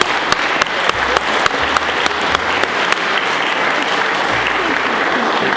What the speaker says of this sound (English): I want to give everybody a big round of applause